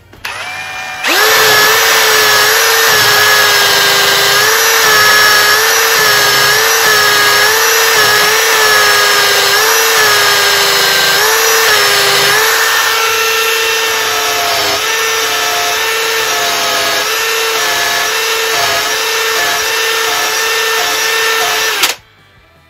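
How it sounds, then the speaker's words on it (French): A drill fitted with a polishing brush whirs steadily and loudly for about twenty seconds, its pitch wavering slightly as the brush rubs against a Darex jack plane. "j'ai une brosse à polir au bout d'une perceuse."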